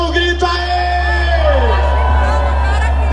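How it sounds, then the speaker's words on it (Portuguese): A crowd aboard the Nave do Som sound-ship show shouts, whoops and cheers loudly and continuously over a heavy, constant bass hum from the sound system, the voices merging into a dense roar. "E quem tá gostando da nave, dá um grito aí!"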